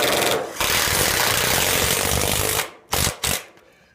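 A power screwdriver drives a screw into a metal screw-down roofing panel at chimney flashing, a steady loud whirring grind for about two and a half seconds, then two short bursts as the fastener is snugged down.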